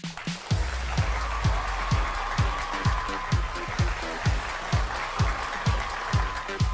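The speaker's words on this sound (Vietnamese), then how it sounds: "Cho một tràng pháo tay để chào đón hai chàng trai của ngày hôm nay." A crowd at a dating show claps and cheers steadily, with a rhythmic pattern of loud beats running throughout.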